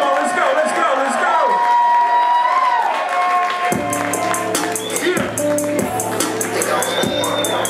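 A live hip-hop concert crowd claps and cheers, with an MC hyping over the noise and a rhythmic clapping beat setting in partway through, loud and dense.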